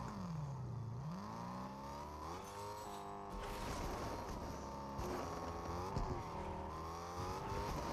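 A car driving in the video game Fortnite gives a continuous engine drone that revs up and shifts pitch repeatedly, steady and fairly close throughout.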